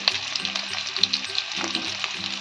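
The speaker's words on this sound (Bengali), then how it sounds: "এই আলুগুলো লাল করে আমি ভেজে নেব" Halved boiled potatoes frying until reddish-brown in hot oil, a bright, continuous sizzle close by with irregular crackles and small spatter pops throughout.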